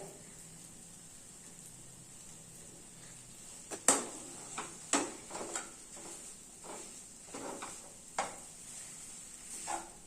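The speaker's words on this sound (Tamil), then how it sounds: "இப்போ நல்லா கிளறிக்கலாம் எல்லா பக்கமும் சர்க்கரை படுற மாதிரி பார்த்துக்கலாம்" A spoon stirs sugar into mashed ripe banana in a pan, with a soft background sizzle and several distinct scraping clicks against the metal, fairly close and quiet.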